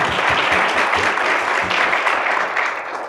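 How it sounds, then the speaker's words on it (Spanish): Seminar audience applauding at an urban mobility conference, dense continuous clapping from a full room that holds steady throughout and tapers slightly near the end. "Un aplauso, por favor."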